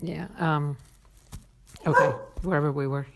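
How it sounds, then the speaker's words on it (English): A pet dog barks and whines in a few short yelps close by, interleaved with a person speaking. "then you just, that's my dog."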